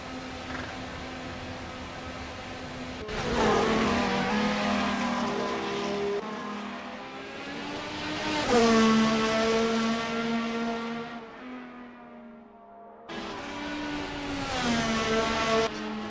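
Race cars at the Japan Grand Prix, engines howling and rising in pitch through gear changes, passing loudly with brief cuts between passes.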